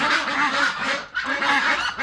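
Ducks quacking in a dense, continuous chorus on a large duck farm in Cambodia, many birds calling over one another at close range with barely a pause.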